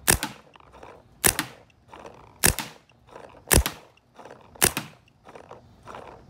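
A red and black Infamous Intimidator paintball marker fires about five sharp, evenly spaced single shots roughly a second apart, each with a short rattling tail, close and loud with no talking.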